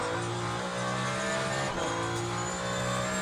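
Ferrari hypercar engine at Imola in the Le Mans Ultimate racing game, a loud continuous engine drone with layered harmonics and a slight pitch shift, heard alone without speech.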